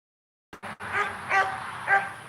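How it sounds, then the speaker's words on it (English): Redtick hounds bark outdoors at some distance. A couple of short knocks come first, then three spaced, moderately faint barks over a low background. "The neighbor's dogs have decided to run up the street. It's a red tick hound."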